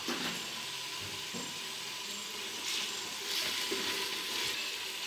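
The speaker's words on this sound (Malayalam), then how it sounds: "ഇതിലോട്ട് ഇനി കറിവേപ്പില ഇട്ട് കൊടുക്കാം" Curry leaves sizzle in hot oil while being stirred for kabsa, a steady faint frying hiss with occasional soft scraping swells, no voices.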